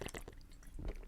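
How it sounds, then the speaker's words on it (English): Water being drunk right up against a microphone, with close wet gulping and sipping noises in a short, loud burst and no talking. "you probably just heard me drinking right in that mic"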